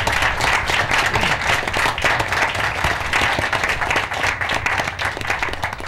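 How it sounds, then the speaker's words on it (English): A room full of people at a city council meeting claps for volunteers, a loud and sustained burst of dense applause that holds steady for several seconds. "We really owe you a round of applause."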